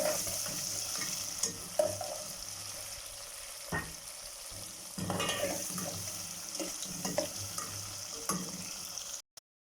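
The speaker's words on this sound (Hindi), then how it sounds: "अनियन को हमने गोल्डन फ्राई करना है।" Onions frying toward golden in a pan with cumin for a dhaba-style chana dal, a steady sizzle running throughout with occasional stirring scrapes and utensil knocks, fairly close and without speech.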